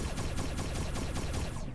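Rapid automatic gunfire in the Roblox game Arsenal, a dense continuous burst of shots sounding loud and close throughout the short stretch, with no speech.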